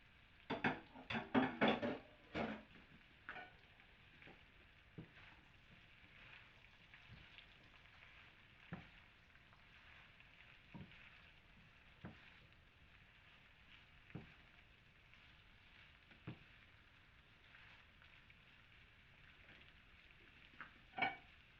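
Vegetables and carrot fry in a pan for vegetarian chow mein, giving a steady, quiet sizzle, with a cluster of clatters from stirring near the start and occasional soft knocks after.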